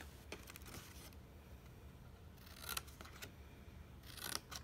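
Scissors cut through scored paper in quiet, close bursts of snipping, a few short clusters separated by pauses.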